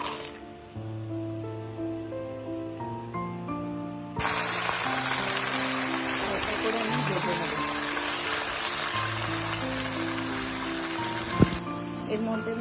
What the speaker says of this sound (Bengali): আর প্রথমেই আমি বড়িগুলো ভেজে নেব।